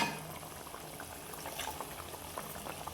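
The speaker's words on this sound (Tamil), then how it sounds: "அந்த தேங்காய் சேர்ந்து கொதிச்சு வரட்டும்" A pot of ground-coconut curry simmers and bubbles steadily, a soft, continuous close-up hiss with no voices.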